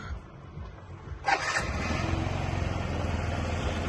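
A 2016 Yamaha Jog SA56 fuel-injected scooter engine starting with a quick crank and catching about a second in, then settling into a steady, close idle that continues to the end.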